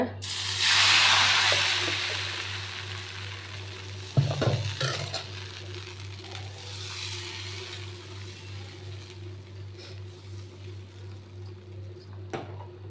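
Sorghum appam batter hits a hot appam pan with a sizzle that swells early, then settles into a steady, moderate hiss with a brief clatter of the pan near the middle.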